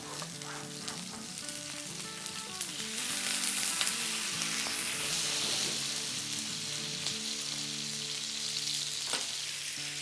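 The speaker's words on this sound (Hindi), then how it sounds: "ये एक सिजलिंग साउंड का एक मज़ा ही अलग है" Onions sizzle steadily in hot oil in a pan as chicken gola kababs are finished, a dense, continuous crackle that swells slightly midway and carries on without talk.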